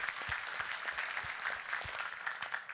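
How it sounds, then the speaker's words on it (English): Audience applause at a leadership forum, a sustained wash of many hands clapping at steady volume throughout, with scattered low thumps mixed in and no talking. "Let's give a round of applause."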